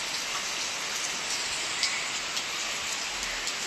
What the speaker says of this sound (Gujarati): ખૂબ વરસાદ ચાલુ થઈ ગયો છે.